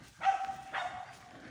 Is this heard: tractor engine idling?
no